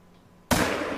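A single rifle shot goes off at an animal in the hunting game theHunter: Call of the Wild, a sudden loud crack after a near-silent half second, then a long fading report.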